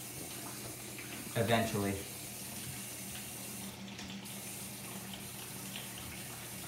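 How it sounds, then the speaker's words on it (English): A water heater refilling from the supply line, heard as a steady low hiss of running water throughout, with a short louder gurgling burst near the start; a brief spoken word passes faintly. "I think the water heater is running right now"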